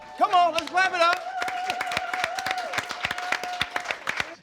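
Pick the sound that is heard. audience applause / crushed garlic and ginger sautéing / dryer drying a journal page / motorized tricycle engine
audience applause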